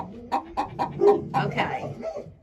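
A hen clucking close by in a short run of repeated, choppy bursts, with a soft voice talking in between.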